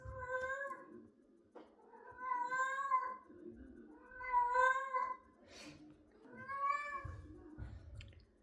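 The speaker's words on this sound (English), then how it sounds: "with my cat making that noise in the background" A cat gives four long, drawn-out yowling meows, evenly spaced and fairly close, with faint low rumbles between them.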